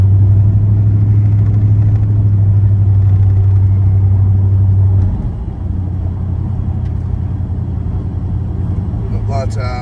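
A custom 1978 Chevrolet El Camino SS with an LS engine rumbles steadily and loudly nearby, its low idle note constant, dipping briefly midway, then resuming under someone talking.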